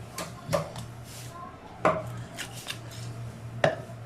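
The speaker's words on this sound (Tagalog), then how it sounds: "hihiwain lang natin to ng lima." Raw chicken chopped into pieces on a board, three sharp heavy cleaver chops spaced about a second or more apart, with softer knocks between and a low hum underneath.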